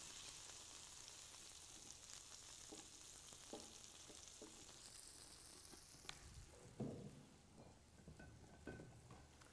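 Maple sausages frying in a pan, a faint, steady crackling sizzle with occasional taps and shifts as tongs move them, heard close and alone.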